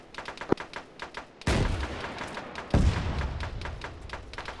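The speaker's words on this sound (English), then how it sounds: "Firing RPGs at my location" Gunfire and heavy explosive impacts from RPGs in a ShackTac Arma military game firefight: a sharp early shot, then two loud booming blasts with rumbling tails over scattered rapid shots.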